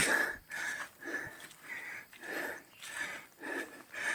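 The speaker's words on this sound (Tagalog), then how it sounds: "Medyo hingal nga lang kasi yuyuko ka at mabigat yung bag." Heavy, rhythmic breathing from a hiker bent over under a heavy bag on a mountain trail, roughly six close, even breaths in and out with no talk.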